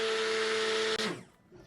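A stick blender mixing goat's milk soap whirs steadily with a high motor whine for about a second, then cuts off abruptly and winds down into quiet.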